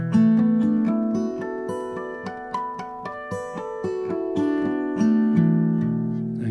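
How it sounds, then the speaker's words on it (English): Guitar played with harp harmonics in an extended arpeggio pattern, bell-like ringing notes alternating with plucked tones in a quick flowing sequence, each note sustaining and overlapping the next, close and clear with no voice. "with harp harmonics and that extended arpeggio pattern sounds like this."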